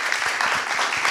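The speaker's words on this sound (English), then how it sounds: "Big applause." Dense audience applause at a tech meetup in Paris, steady rhythmic clapping from many hands throughout the brief moment, fairly loud with no talk over it.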